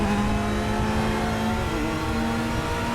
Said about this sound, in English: But just listen to that Porsche in front.